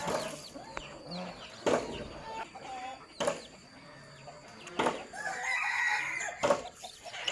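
Chickens cluck and a rooster crows in repeated loud calls a few seconds apart, set against a busy outdoor farmyard backdrop with other faint bird sounds.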